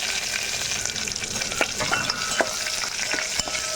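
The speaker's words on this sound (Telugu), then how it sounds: "ఇప్పుడు చిత్తగొట్టుకున్న వెల్లుల్లి రెబ్బలు కూడా వేగిపోయాయి." Crushed garlic cloves fry in hot oil for a dal tempering, giving a steady close sizzle with scattered sharp crackles and pops throughout, no voices.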